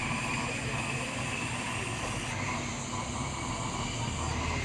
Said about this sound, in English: Ito na ang jet namin.